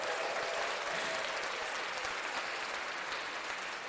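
Canned applause played through an audio interface for a home-recorded show, steady and continuous crowd clapping at a low, even level.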